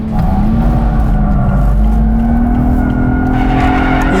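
A BMW 840i Gran Coupe's engine roars steadily while its tires squeal continuously through an all-wheel-drive drift, loud and close, with no voices.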